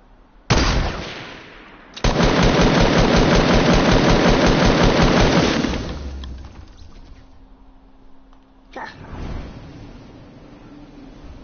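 Loud bursts of video-game gunfire: a short blast, then a sustained rapid automatic volley lasting several seconds, followed by a quieter gap and another burst near the end, with no talking.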